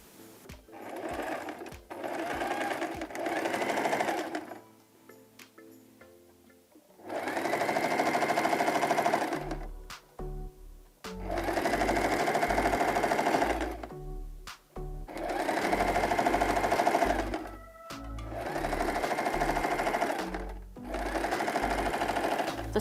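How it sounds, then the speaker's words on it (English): A sewing machine runs a straight stitch along the top edge of a fabric bag, a folded half-inch double hem, in several sustained bursts of steady whirring separated by short pauses and small clicks, close and loud, with no talk. "And we're going to run a straight stitch all the way down."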